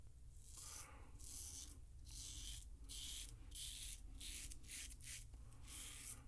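Safety razor dragging flat across the face in a run of short, scratchy strokes, each a crisp rasp with brief pauses between, very close and quiet, no talking.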